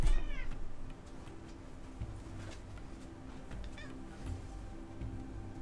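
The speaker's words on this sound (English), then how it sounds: "Kitty face. Be good. Stay there. And stop yelling at me, please." A cat meows loudly indoors, with a couple of drawn-out, rising cries near the start and another a few seconds later over a steady low hum.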